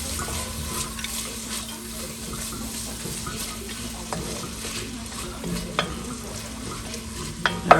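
Carrots cooking in a pot for Rosa Marina soup give a steady, soft sizzle and simmer that runs throughout, with a few faint clinks and one sharper knock near the end, and no talking.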